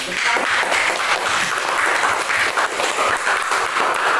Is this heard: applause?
yes